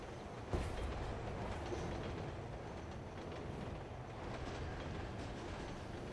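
A train on a Chicago rail line rumbles past at moderate distance, giving a steady low roar with faint wheel clatter and a brief bump near the start, continuous and unbroken with no voices.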